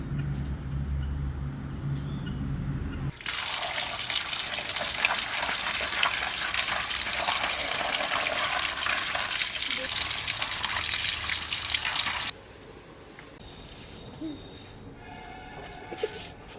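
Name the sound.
washing chicken meat under running tap water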